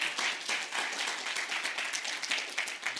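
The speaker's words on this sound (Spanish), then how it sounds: "¿Cuántos le dan un aplauso al Señor?" A church congregation applauds for the Lord with fairly quiet, dense clapping that holds steady at a moderate distance, without voices.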